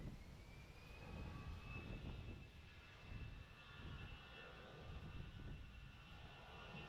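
A Peach Airlines jet takes off at Nagasaki airport, a steady, faint, distant engine roar with a rising whine that holds throughout, heard alone without voices.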